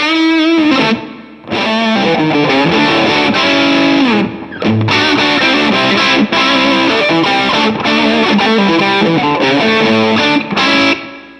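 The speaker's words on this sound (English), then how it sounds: "Now let's change it up to pedal distortion." Heavily distorted electric guitar plays a continuous riff of chords and single notes, loud and close, with brief pauses between phrases.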